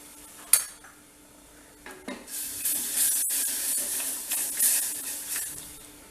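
A spoon scrapes and knocks against a pot as a thick homemade health-drink powder mixture with cocoa is stirred, with a faint hiss of heat beneath.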